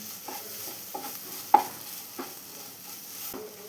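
Pepper and spice powders are stirred in a pan over a low flame for a chicken curry, a soft sizzle under quiet scraping strokes of a spoon, with one sharper clink midway.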